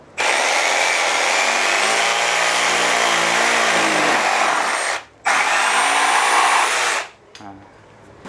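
A loud Milwaukee M18 FJS cordless jigsaw buzzes steadily for about five seconds, cuts out briefly, then runs again before stopping, leaving quiet handling noise.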